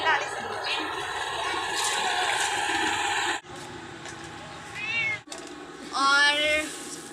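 A cat meows in a village home, several distinct drawn-out meows coming close and loud, with someone talking and household background noise before them.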